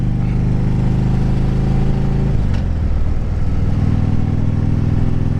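A 2010 Harley-Davidson Street Glide Ultra engine runs hot while lugging along, its loud, close, low throb steady, then shifting pitch midway before settling back into a heavy rumble, with no talking.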